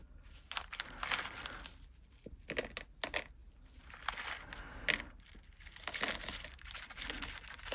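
Pieces of blue sea glass sprinkled by hand over a resin art picture: quiet, close clinks and crinkly scattering clicks in irregular small bursts, faint overall with no talk.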